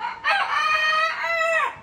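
On a farm in Malaysia, a rooster crows twice in close succession, loud and near, each call drawn out and ending in a falling tail.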